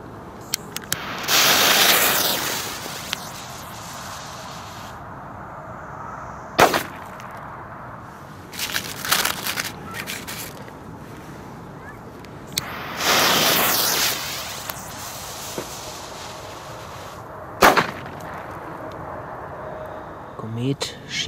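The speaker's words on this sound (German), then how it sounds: "China-Böller A von Komet" Komet China-Böller A firecrackers go off in a series of sharp, loud bangs, some preceded by bursts of hissing, with quieter gaps between them.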